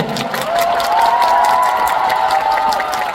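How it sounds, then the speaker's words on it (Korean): A K-pop concert audience claps and cheers steadily, a dense wash of applause with voices rising over it, continuous throughout. "여러분은 현장에 있는데 왜 박수를 치는 거야?"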